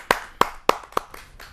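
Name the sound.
audience clapping to welcome a poet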